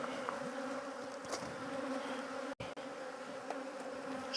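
Honey bees drone in a steady, dense buzz around an open hive during a beekeeping split, continuous and close, with a brief dropout partway through.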